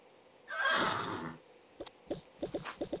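A horse in a Toca Boca video game gives one loud, close whinny lasting about a second, followed by a quick run of short clip-clop hoofbeats.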